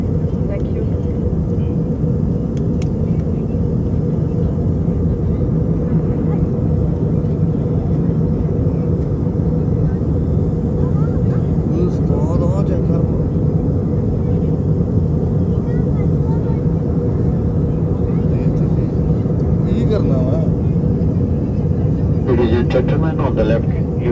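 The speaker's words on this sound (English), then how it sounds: "we shall shortly be landing at Skurdo International Airport" Steady, loud cabin drone of a PIA airliner descending toward Skardu airport, a continuous low rumble filling the whole stretch with faint voices in the cabin beneath it.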